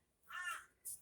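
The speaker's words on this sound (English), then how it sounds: "if you hear a crow in the background" A faint, distant crow caws once, followed by a short second call, outdoors in the background with a quiet surrounding.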